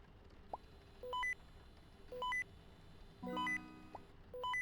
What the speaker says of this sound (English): The beeping returns.